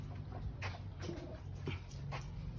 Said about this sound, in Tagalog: Nandito yung aso kong nanununtok.